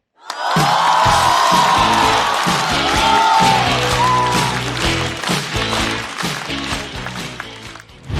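A stand-up comedy audience greets the comedian with loud, sustained applause and cheering, with whoops over the clapping, gradually thinning toward the end.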